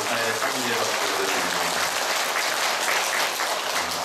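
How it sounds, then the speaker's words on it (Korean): A church congregation gives a long burst of dense, loud applause. Many hands clap steadily and evenly throughout, filling the room. "하느님께 찬미와 영광의 박수 크게 올려드립니다."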